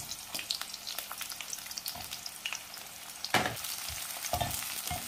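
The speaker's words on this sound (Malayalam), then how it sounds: "എണ്ണ ചൂടായി ഇതിലേക്ക് പാവയ്ക്കായിട്ട് വറുത്തെടുക്കാം" Sliced bitter gourd frying in hot coconut oil in small batches over a medium flame: a soft, continuous sizzle with crackling pops and occasional louder bursts as pieces are stirred, fairly quiet and close, with no talking.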